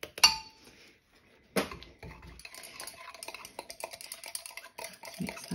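A whisk scrapes and clinks against a bowl while stirring a thick jelly soap mixture with colour and bio glitter. A sharp knock comes first, then steady, busy metallic tapping and swishing, close and fairly quiet.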